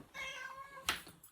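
A house cat lets out one drawn-out, fairly soft meow, followed by a short sharp knock or thump and a quiet tail of room noise.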